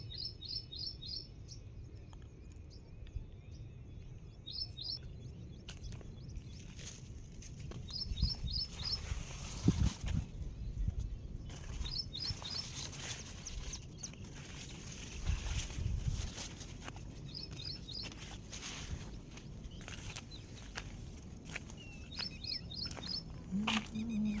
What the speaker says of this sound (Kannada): ಅಲ್ಲಿ ಗಿಳಿಗಳು ಕಾಯ್ತಾ ಇದ್ದಾರೆ ನೋಡ್ರಿ